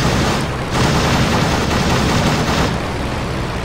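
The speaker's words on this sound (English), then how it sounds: "only one machine gun was firing" A WWI biplane's machine gun fires in the Rise of Flight video game, an Albatros D.III, in a dive during a dogfight: a steady, loud, continuous rattle of rapid shots over droning engine noise, with no voice.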